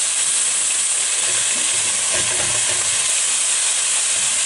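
Onion sizzles and fries in a pan while a beef stew is cooked, a steady bright hiss with faint crackling throughout, no talking.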